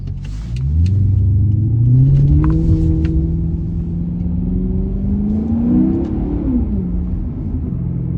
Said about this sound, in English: you can hear sort of the burbles on the high RPMs really